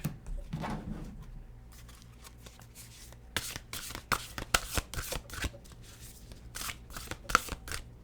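Oracle cards being shuffled by hand, a soft rustle at first and then a run of quick riffling flutters and slaps, close and moderately quiet with no speech.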